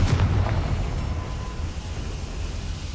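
A Confringo fire spell blasts in Hogwarts Legacy, a heavy low rumbling explosion that bursts at the start and rolls on as a sustained roar for about three seconds, no voices.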